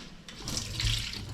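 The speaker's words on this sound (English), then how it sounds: "you need to put boiling water on it" Boiling water poured over ackee in a kitchen, a steady rushing splash of liquid close by, with no voices.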